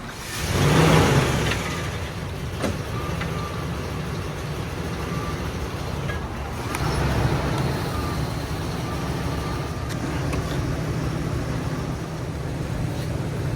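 A Ford truck rolls slowly up a ramp, a steady low engine drone and rumble running throughout with a slight swell near the start, moderately close and without talk.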